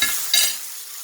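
A beef hamburger patty sizzles in a pan as it is flipped for the last time while cooking for a homemade Big Mac, with a steady close-up hiss and a brief louder burst partway through.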